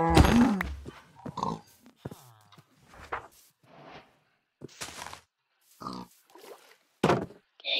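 Pigs in the video game Minecraft grunt and oink in a series of short, separate bursts spaced across the stretch, some loud and close, others softer, with quiet gaps between them.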